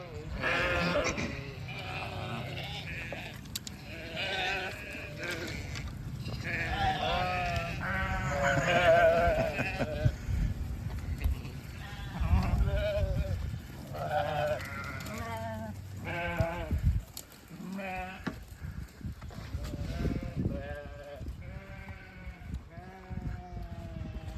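Many sheep bleat repeatedly in a field, a dense chorus of overlapping calls near and far, with a voice calling out among them.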